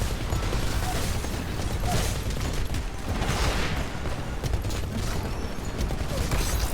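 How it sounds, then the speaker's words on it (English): Weapon reloading in the Titanfall shooter game, a run of mechanical clicks and ratcheting clacks heard amid steady dense gunfire and game noise, loud and continuous throughout. "Hold on, I'm reloading, buddy."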